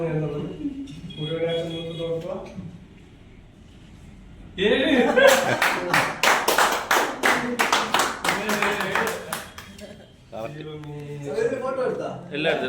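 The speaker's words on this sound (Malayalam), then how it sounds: "നല്ലൊരു ക്ലാപ്പ് എനിക്ക് വിചാരിച്ച ക്ലാപ്പ് കിട്ടിയില്ല" A group claps together in a burst of dense, rapid applause lasting about five seconds in the middle, with a person talking before and after the clapping.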